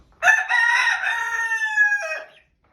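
A rooster in a chicken coop lets out one loud, close crow lasting about two seconds, rising and held before trailing off.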